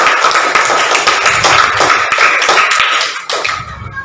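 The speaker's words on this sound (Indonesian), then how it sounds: "kasih tepuk tangan dulu untuk kelompok 1" A classroom of students claps together for a group's presentation, steady dense applause filling the room for several seconds before thinning out near the end.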